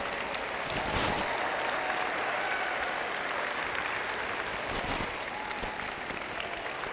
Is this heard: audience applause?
yes